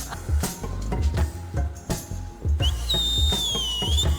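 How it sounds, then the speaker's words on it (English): A singer whistles a sustained, wavering high tune over a thumping dance beat during a Eurovision national-final performance, clear and prominent near the end. "Ooh, that whistle."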